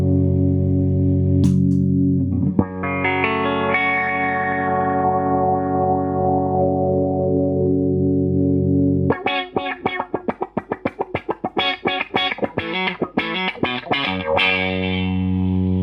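Electric guitar run through auto wah and envelope filter pedals, including a Boss unit, first sustained chords with a sweeping filtered tone, then a fast rhythmic series of quacky strummed hits, loud and without talk.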